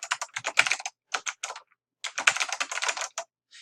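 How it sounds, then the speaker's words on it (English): Fingers typing an email on a computer keyboard: two quick runs of steady keystrokes separated by a short pause, close and clear, with no voices. "So then you type in your email."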